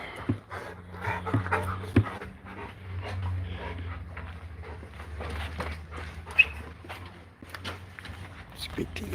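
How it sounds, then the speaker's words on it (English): Several dogs pant and whimper close by, with footsteps shuffling and a few short yelps, while a person talks over the steady breathing. "The doggies."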